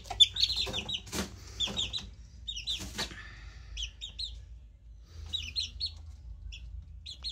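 Soft, high chirping peeps from month-old chicks repeat in small clusters over a low background hum, fairly close by.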